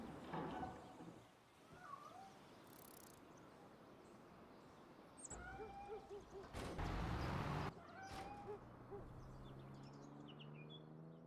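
Faint cat meows heard in the Farming Simulator 25 video game, several brief thin calls scattered over quiet ambience, with a louder burst of background noise midway.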